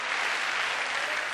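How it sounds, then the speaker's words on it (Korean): A crowd claps steadily and evenly at a church healing service, a dense wash of applause with no pause. "우리 하나님께 영광과 감사의 박수를 올려드리기를 원합니다"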